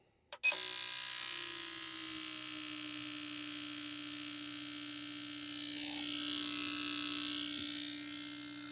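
A fuel injector cleaning and testing machine, servicing injectors from a supercharged Subaru Sambar, runs on high spray volume after a sharp click, giving a steady close mechanical hum and hiss that swells slightly toward the end.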